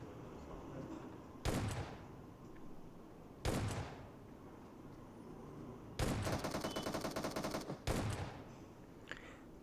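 S12K shotgun blasts in the mobile battle royale game PUBG Mobile, four loud sharp reports spaced a second or two apart over a low ambient background, one a rapid rattling burst of several shots.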